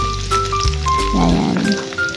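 Minced garlic drops into a hot pan for a Filipino chicken feet dish, and a burst of sizzling crackle rises midway and fades over a couple of seconds, with faint background music tones throughout.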